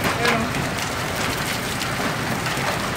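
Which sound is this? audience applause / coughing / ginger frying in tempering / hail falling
hail falling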